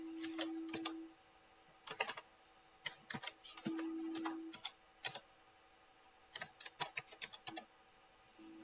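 Quiet bursts of keyboard key clicks as a password is typed into a school website login, coming in short, irregular runs separated by pauses over a faint steady hum.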